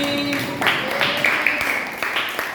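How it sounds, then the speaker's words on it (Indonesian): Applause for a group of students in a classroom cooking practice session, a dense wash of clapping from the class that swells after a brief tonal hum and carries on steadily at moderate loudness. "berikan tepuk tangan untuk kelompok kelinci"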